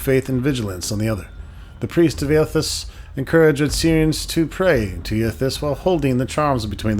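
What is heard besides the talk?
No distinct noise like a dog, phone or traffic.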